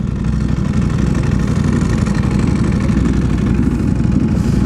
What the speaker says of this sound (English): this sounds like the proper Ducati